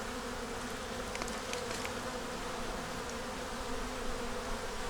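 Honey bees drone in a soft, even buzz around an open hive, a faint continuous hum with no talking.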